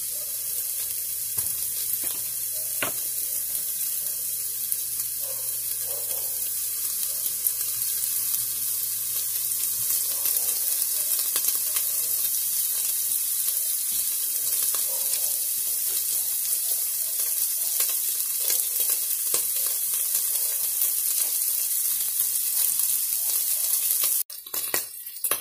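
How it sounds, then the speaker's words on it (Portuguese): Sausage and bacon sizzle steadily in a frying pan, a close and continuous hiss. A few clatters come near the end, and no one speaks. "Eu dou uma fritada na linguiça e no bacon."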